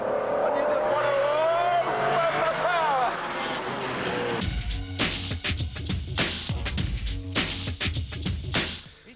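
A car at full throttle on a race track climbs through the gears with a loud, rising engine roar, then brakes hard for a corner with abrupt, choppy bursts of engine and tyre noise.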